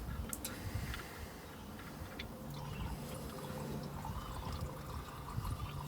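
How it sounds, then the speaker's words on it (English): Engine oil from a Honda HRV drains into a pan as a steady close pour, with a continuous liquid trickle and small ticking drips running alone throughout. "So I'm just going to drain the remainder of the oil out of the engine."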